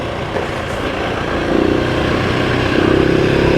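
Husqvarna 701 and GasGas 700 dirt bikes ridden off road, a loud continuous engine drone that swells with throttle as the bikes pull away, close by and without talk.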